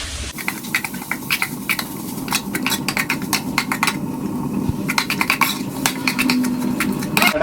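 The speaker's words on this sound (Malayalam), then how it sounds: "അപ്പോൾ നമുക്കിത് പൊടി ഒന്ന് നന്നായിട്ടൊന്ന് വഴറ്റിയെടുക്കാം." Homemade spice powders frying in a pan for Kerala-style country chicken curry, with irregular stirring scrapes and clinks of a utensil against the pan over a steady low sizzle.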